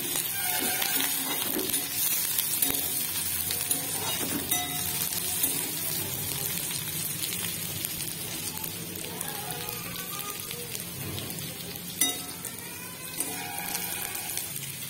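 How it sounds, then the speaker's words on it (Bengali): Chopped onions fry in oil in a wok for a ridged gourd dish, giving a steady close sizzle and crackle throughout with occasional clinks of stirring. "প্রথমে কড়াইয়ে তেল দিয়ে পেঁয়াজ কুচি করে পেঁয়াজগুলো ভাজবো ভালো করে লাল করে।"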